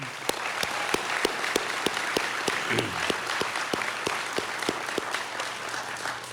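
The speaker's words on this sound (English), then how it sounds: "So just one more round of applause for all those being promoted." An audience at a fire department graduation and promotion ceremony claps steadily, a dense, even round of applause from a crowd indoors that continues throughout without anyone speaking.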